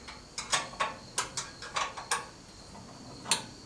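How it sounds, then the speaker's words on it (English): A wrench ratchets repeatedly to remove a bolt from a saw blade bracket, giving a run of sharp metallic clicks at a steady rhythm, then a short pause and one final click, close and clear. "I got to take the bolt out at the bottom one"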